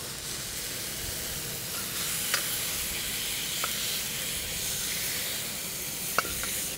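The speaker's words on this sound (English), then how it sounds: "Super fast wok cooking. My wok burner stir-fried chicken and cashew." Chicken and cashew stir-frying in a wok over a high-heat wok burner, a steady loud sizzle with a roaring hiss and a few sharp ticks of tossing and stirring, no voices.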